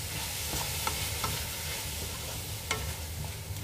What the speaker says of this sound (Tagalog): So, gisa lang natin.